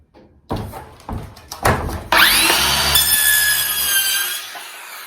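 A Ryobi 18V One+ 6.5-inch cordless circular saw spins up and cuts through cardboard after a few handling knocks, a loud close whine sustained for a couple of seconds before winding down.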